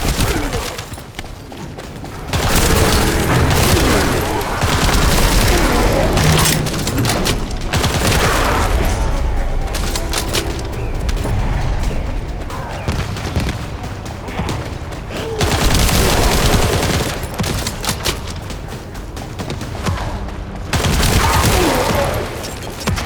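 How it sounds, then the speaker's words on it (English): Gunfire and artillery fire in The First Descendant roar in loud sustained barrages, with heavy booms and rapid shots repeating across the stretch, broken by a few brief lulls. "Avoid the enemy's artillery fire and focus on the target."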